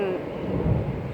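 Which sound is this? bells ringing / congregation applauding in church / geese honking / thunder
thunder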